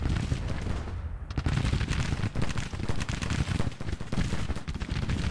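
Dense volleys of musket and cannon fire in a Civil War battle in the video game Grand Tactician: The Civil War, loud, continuous crackling and booming with no break.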